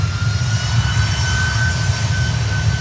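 Loud, continuous roar of a FedEx Boeing 767 freighter jet taking off at Miami airport, a steady broadband rumble with a whining engine tone heard at close range, no talking.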